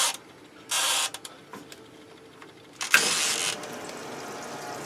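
A washing machine starting a warm-rinse wash cycle, with a bright whir and clicks followed by a sustained rushing of water filling the drum, close and steady after a short burst earlier.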